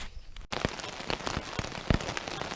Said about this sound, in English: it's Sunday morning and it is pouring rain